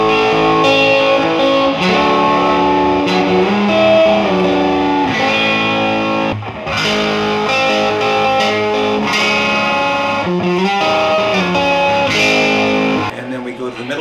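Electric guitar with a Kinman P90Hx pickup in the bridge position, tone and volume fully up, plays a short riff with a loud, distorted, effects-laden tone that rings continuously and drops out briefly near the end.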